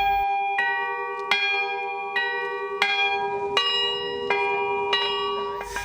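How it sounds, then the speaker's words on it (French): Newly cast church bells struck by hand-pulled clappers, producing about eight clear, ringing strikes at irregular intervals, each tone sustaining and overlapping the next in a resonant chord, heard close and alone. "Les paroissiens ont pu tirer sur le battant pour les faire teinter et apprécier les accords."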